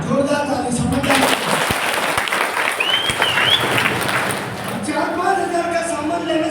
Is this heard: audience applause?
yes